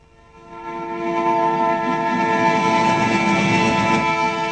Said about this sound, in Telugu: ట్రైన్ ఎప్పుడు వస్తుంది? ఇప్పుడు ఒకటే కూర్చుందిరా, అది కూడా వచ్చే టైం అయింది.